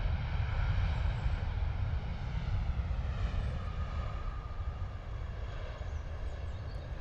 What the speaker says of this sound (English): Not much sound from those reverse thrusts on the 737 there.